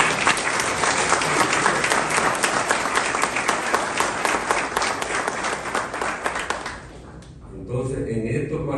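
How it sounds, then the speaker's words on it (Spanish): A large university audience breaks into sustained, loud applause during a ceremony, dense clapping filling the room for several seconds before it suddenly drops away and talk resumes. "Y yo quiero pedir un aplauso"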